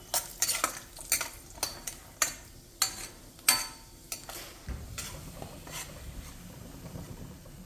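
A spoon stirs ragi flour roasting in ghee in a pan, giving a run of sharp, evenly spaced scraping strokes that ease into a soft, steady sizzle, close and fairly quiet with no talk.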